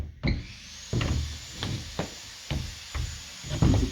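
A knurled pivot pin on a bi-fold door is worked into its metal track, giving a series of sharp knocks and scraping clicks, roughly every half second, close and alone.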